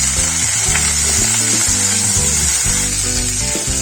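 Potatoes and turmeric sizzle in hot oil spiced with cumin, cloves, cardamom and cinnamon, a steady, close frying hiss under a continuous mechanical ratcheting clatter.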